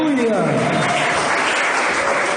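Church congregation applauding to receive a preacher, loud dense clapping filling the hall from start to finish, with a voice speaking over it at the beginning.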